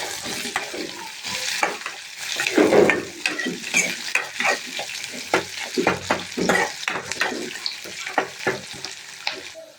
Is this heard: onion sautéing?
yes